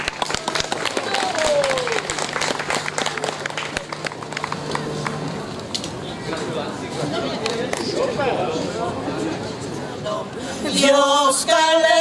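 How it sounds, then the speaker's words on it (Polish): An audience at a folk music event gives a hearty round of applause for a female folk singer. Brisk, crackling claps fill the first half and then thin out under crowd chatter, and singing starts near the end. "Proszę o gromkie brawa dla pani."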